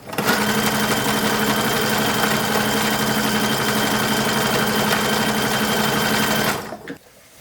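A sewing machine top-stitches a belt for a 1940s WWII uniform with a loud, fast, steady mechanical whir and rapid needle chatter, running close and continuously before stopping abruptly near the end.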